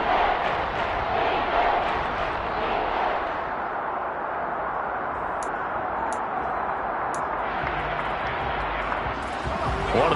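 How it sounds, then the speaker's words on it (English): An American football stadium crowd roars in a continuous, dense wash of noise as the home team lines up for a big third down late in a close game, steady and loud throughout, with a commentator's voice underneath. "the crowd getting into it as we come up on a big 3rd down"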